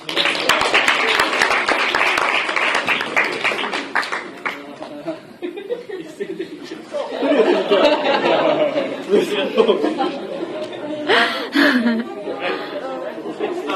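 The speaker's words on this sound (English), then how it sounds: "a virtual clap for Wilson." Several people clap together on a video call, a steady patter of applause mixed with chatter and light chuckles throughout.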